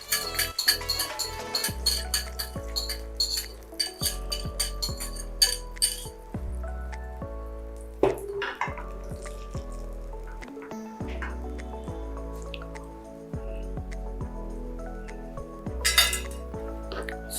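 Eggs are put into a pan of softened butter, with repeated light clinks and taps of utensils and cookware and a soft wet squish, close-up over a steady musical backdrop.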